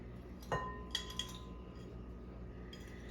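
A spoon clinks against a bowl while pumpkin muffin batter with cinnamon is stirred, giving a few quiet, close taps over a soft background hum, with no talking.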